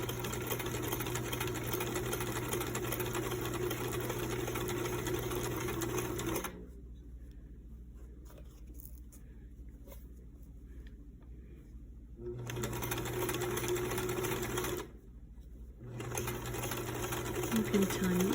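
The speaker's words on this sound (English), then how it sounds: "I already sewed the bottom of the mask, and now I'm sewing the top" Sewing machine stitching the top of a fabric mask, a loud, steady mechanical whir in two runs separated by a quiet pause, with a brief stop near the end. A person talks in the background.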